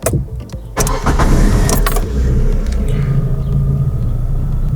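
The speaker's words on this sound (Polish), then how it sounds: "W pierwszej kolejności uruchamiamy silnik." A driving school car's engine cranks and starts up at a training manoeuvre course, turning into a steady close idle rumble after a brief starter burst, with no talking.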